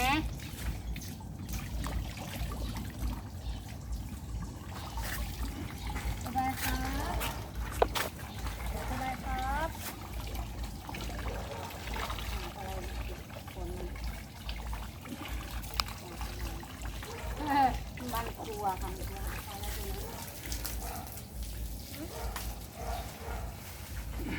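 Water trickling and splashing as a pet is bathed, an uneven running flow with occasional splatters, heard beneath people chatting nearby.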